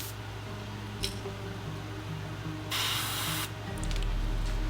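An airbrush sprays paint onto a fishing lure in short hissing bursts, a brief puff near the start and a longer close spray in the middle, over a low steady compressor hum.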